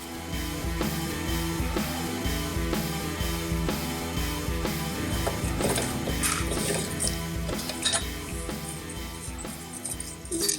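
A ratchet works on 10 mm bolts holding the battery box of a Honda Goldwing GL1200 motorcycle, with a steady run of clicking and metallic mechanism noise close by over faint background hum and no talking.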